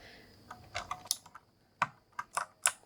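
Keys on a Razer keyboard are pressed in a sparse, irregular run of sharp clicks and clacks, close and crisp against near silence.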